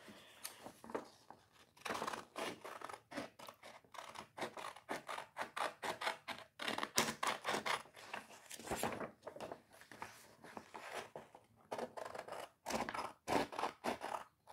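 Scissors snip through a paper game card in a rapid series of crisp, close cuts, some closely spaced and others separated by short pauses, continuing steadily with no talking.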